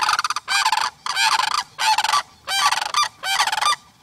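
Geese honk in a run of loud, harmonic calls, five or six bursts in quick succession, close by and clear with no talk over them.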